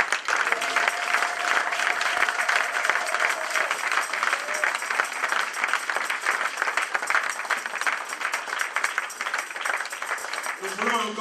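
A church congregation applauding to acclaim Jesus at the dedication of a new hall: loud, sustained clapping from a large crowd fills the room without pause, with voices mixed in underneath.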